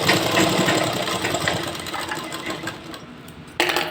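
A sewing machine stitches elastic onto a ladies' pant with a steady mechanical hum close by. Near the end it briefly drops off and then surges again, with no talking.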